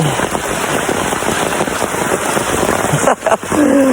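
Heavy rain pours down hard and continuously during a storm at a wedding, a dense loud hiss that fills the whole stretch, with faint voices and a few bumps near the end.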